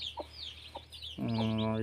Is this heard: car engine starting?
no